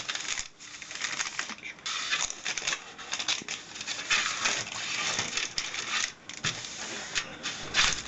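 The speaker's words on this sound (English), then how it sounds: "Then with greaseproof paper, put it all over your baking tray." Greaseproof paper crinkles and rustles as it is spread across a baking tray while making sticky orange flapjacks; a close, steady, papery crackle with soft taps and brief pauses, and no talking.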